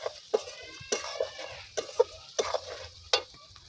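Spice masala for chicken do pyaza stirred and frying in a pan, with repeated scraping strokes of a spoon over a soft sizzle, close and fairly quiet.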